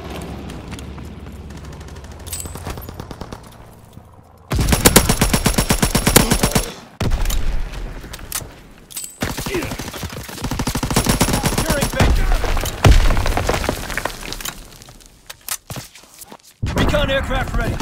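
Loud bursts of M2 Carbine and machine gun fire in a Call of Duty: WWII match on the Monte Cassino map, rapid automatic volleys that stop and start repeatedly, with game voice callouts woven between the shots.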